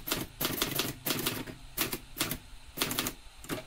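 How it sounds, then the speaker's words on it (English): Typewriter keys strike in quick uneven bursts, close and fairly quiet, with short pauses between clusters of clacks and no speech. "and we type the date."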